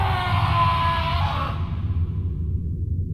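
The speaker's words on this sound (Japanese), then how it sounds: "なんか叫び声聞こえたけど" Screaming voices in the horror game Kuro Oni 2.1, a sustained distant wail of several voices over a low droning background that cuts off midway, leaving only the rumble.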